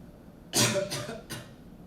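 A person coughs three times in quick succession, the first cough loudest and the next two shorter and softer, close up against a quiet room.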